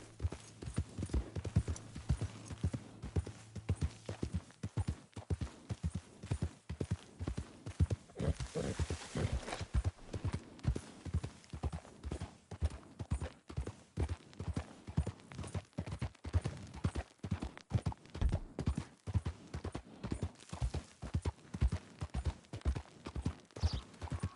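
Horse hooves clip-clop in a steady walking rhythm throughout, close and continuous, in the game Red Dead Redemption 2, with a short breathy swell partway through.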